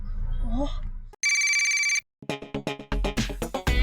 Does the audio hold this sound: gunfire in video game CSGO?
no